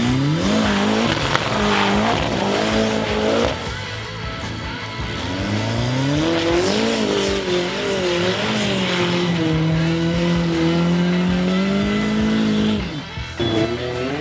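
4x4 trial vehicles revving hard through a mud bog at a New Zealand trials event, engines loud and close with rising and falling pitch as drivers floor the throttle, continuous strain with no talk.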